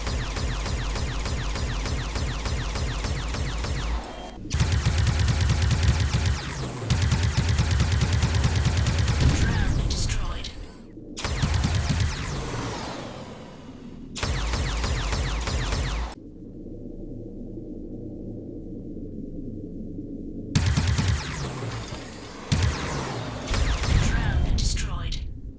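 Spaceship plasma cannon fire in the Space Fighter VR game: long bursts of rapid, loud, dense shots separated by short pauses and a quieter humming stretch, with a voice speaking at times.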